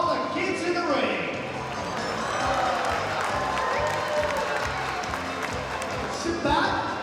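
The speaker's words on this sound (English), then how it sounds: "How about a round of applause for all the kids in the ring?" Audience applause and crowd noise fill a circus ring, a broad continuous clatter of clapping from a large crowd that holds steady throughout, with a few voices mixed in.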